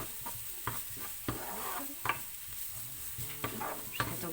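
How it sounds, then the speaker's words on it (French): Thinly sliced onions sautéing in a drizzle of olive oil, a soft sizzle punctuated by periodic stirring scrapes, close but fairly quiet, no voices. "dans un filet d'huile d'olive, j'ai fait revenir quelques oignons"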